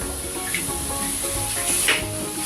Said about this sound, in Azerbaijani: İlk öncə quru tavaya soğan və sarımsağımızı əlavə edirik.